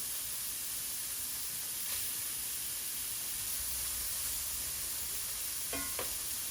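Meat sears in a hot cast iron pot, a continuous even hiss and sizzle at moderate level with a couple of faint clinks from utensils.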